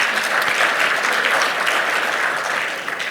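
Steady applause from an audience at a health survey dissemination conference in Rwanda, a dense wash of clapping that holds for about three seconds and thins slightly at the end, with no talking over it.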